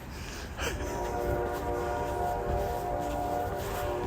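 A train rolls past nearby with a steady, sustained horn tone over a low rumble that grows louder after the first half second and holds.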